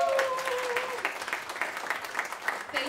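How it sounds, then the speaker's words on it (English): Audience applauds at a live band concert in a venue, moderate rhythmic clapping with some cheering, with a voice briefly heard at the start. "Give them a round of applause."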